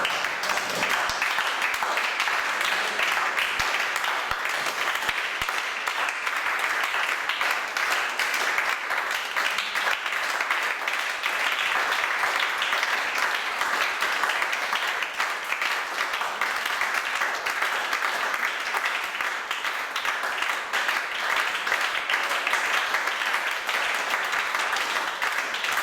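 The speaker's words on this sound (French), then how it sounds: "Est-ce qu'on peut acclamer le Seigneur?" A church congregation applauds and cheers in praise of the Lord, a dense, steady wash of clapping and voices that stays loud and unbroken from start to finish.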